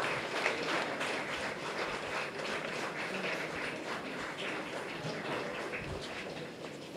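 Crowd applause at a film calendar launch event as filmmaker Mani Ratnam is welcomed on stage, a dense sustained wash of clapping filling the hall at steady volume throughout.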